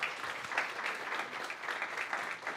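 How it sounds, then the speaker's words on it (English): An audience at a Full Sail University talk claps for roughly two and a half seconds, a dense, moderately distant, fairly even burst of applause without any speech. "Let's give her a little round of applause."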